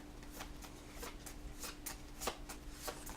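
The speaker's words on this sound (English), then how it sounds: "I just realized I've been shuffling my 5-card hand to draw." A five-card hand of playing cards from a Star Realms Frontiers command deck game is shuffled in the hands, giving a run of soft, quick riffling bursts at close range with no talk.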